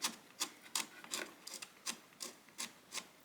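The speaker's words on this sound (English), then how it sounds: "So I'm almost done with the sanding" Hand sanding of wood on a dollhouse: a quiet, rhythmic back-and-forth rasp, about nine strokes in steady succession, close by, with no talking.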